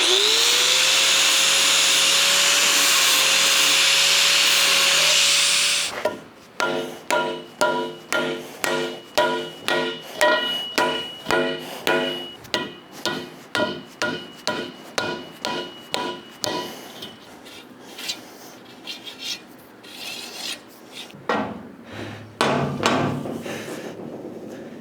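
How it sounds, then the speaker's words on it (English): A power tool grinds and cleans the ends of a steel trailer pipe for bushings, opening with a steady whine, then breaking into a long run of rapid, rhythmic rasping strokes close up. "I'll clean up the ends of this pipe here"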